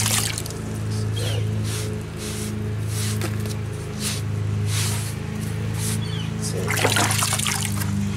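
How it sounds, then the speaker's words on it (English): A sponge is rinsed and squeezed in a bucket of water while cleaning cement off stone masonry steps, giving continuous close trickling and sloshing over a steady low hum, with a brief louder splash near the end. "Always rinse your sponge completely out."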